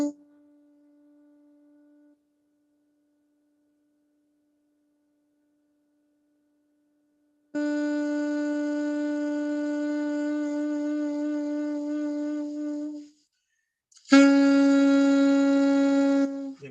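A jazz wind instrument sustains long, even tones: a faint held note at first, then a loud steady note lasting several seconds, and after a short gap another strong held note, played alone.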